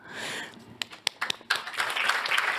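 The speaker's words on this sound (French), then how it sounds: "Avec des applaudissements, merci beaucoup." Audience applause at an insurance awards event, with a burst of scattered claps building into sustained clapping from a room full of people, moderately loud and without speech.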